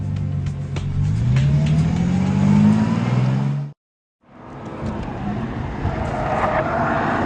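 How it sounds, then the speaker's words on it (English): A Bentley Continental Supersports on a fast lap of the Nürburgring, its engine roaring loud and close with rising, shifting revs, cut by a brief silent gap before the engine drone resumes. "driving this new extreme Bentley around this phenomenal track"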